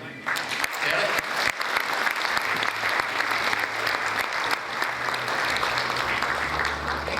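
Crowd at the World Korean Business Convention in Atlanta applauds to welcome a keynote speaker to the stage, sustained dense clapping throughout with a voice speaking over it.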